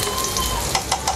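Garlic browning in a pan with onions while cooking Filipino pakbet makes a steady, loud, close sizzle, with a few light stirring taps in it.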